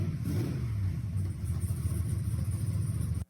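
An autocross car with a custom exhaust of similar-length headers sits under a steady, loud, close engine rumble that holds at a constant idle-like level before cutting off abruptly.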